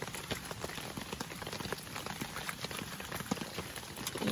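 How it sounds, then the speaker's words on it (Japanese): Steady rain patters densely at a campsite, a continuous close hiss of drops striking surfaces with no pauses and no voices. "相変わらず、今日も雨です。"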